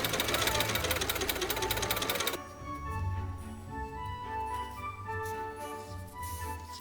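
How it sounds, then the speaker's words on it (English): A sewing machine stitching dress sleeve pieces together, a fast close mechanical rattle of the needle running for about two seconds, then stopping and leaving only a quiet hum. "So I'm just gonna sew them together, and here is where the slit will be."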